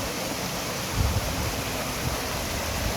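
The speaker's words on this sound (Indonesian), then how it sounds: "Air yang jernih kemudian mengalir dari sebuah air terjun" A steady, moderately quiet rush of clear water spilling from a clean, well-kept waterfall in a park, a continuous broadband wash with slight swells and no voices.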